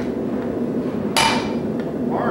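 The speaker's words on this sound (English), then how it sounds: "Take a junky hammer. Hammer and strike it like you mean it." A single hard, ringing hammer strike on metal at a blacksmithing demonstration, sharp and loud against steady background noise of the gathering.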